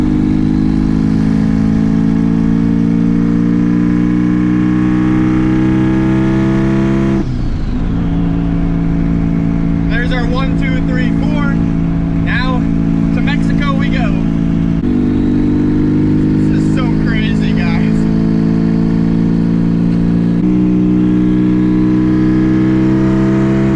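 A twin-turbo Subaru STi engine on wastegate pressure pulls hard through fourth gear, a loud sustained roar climbing in pitch, with a brief gearshift dip early on and sharp chattering bursts layered over the drone.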